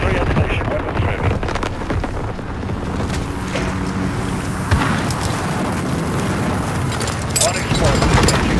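White phosphorus strike explosions rumble through a Call of Duty Modern Warfare multiplayer match, a continuous loud boom and roar with wind-like noise over several seconds, overlaid by in-game radio voice callouts.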